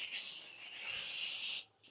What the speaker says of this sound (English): This is my favorite deodorizer